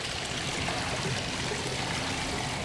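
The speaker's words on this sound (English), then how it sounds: "the water hasn't stopped seeping in since" Floodwater seeps into a flooded basement with a steady, continuous trickling and running-water wash, fairly loud and close, with no talking.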